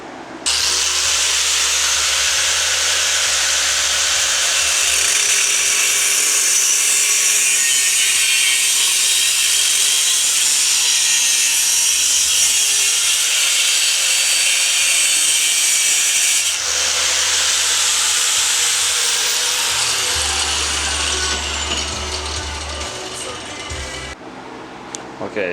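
A power tool cuts square metal tubing for a low custom seat bracket, a loud, steady high-pitched grinding that runs nearly continuously, pauses briefly partway through, then resumes before fading out at the end.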